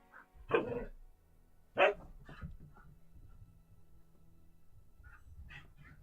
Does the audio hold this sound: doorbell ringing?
no